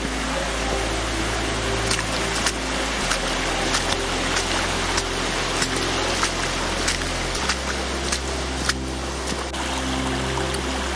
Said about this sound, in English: And to the sound of that bubbling brook